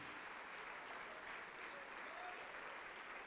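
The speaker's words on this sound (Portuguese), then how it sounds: "vamos aplaudir ao Senhor Jesus por cada vida que está chegando." A church congregation applauds in praise, steady even clapping filling the room at low level throughout, with no break or change.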